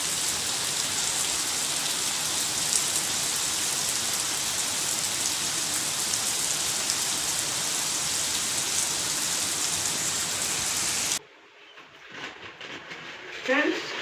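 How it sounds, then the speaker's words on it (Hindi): Heavy rain falls in the mountains as a dense, steady, loud roar for about eleven seconds, then cuts abruptly to a much quieter scene with only faint scattered sounds. "देखो फ्रेंड्स, कितनी बारिश हो रही है ना।"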